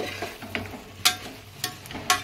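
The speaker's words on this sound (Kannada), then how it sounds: "ಮಶ್ರೂಮು ಒಂದು ಪ್ಯಾಕೆಟ್ ಮಶ್ರೂಮು ಚೆನ್ನಾಗಿ ಫ್ರೈ ನೋಡಿ," A packet of mushrooms frying in a pan for mushroom biryani: a soft steady sizzle close by, punctuated by a handful of sharp spoon clinks as they are stirred.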